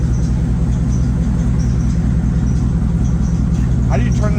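A worn-out, beat-up Chevrolet C6 Corvette engine runs steadily, giving a loud, close, unbroken idling drone with a deep, even hum and faint voices nearby.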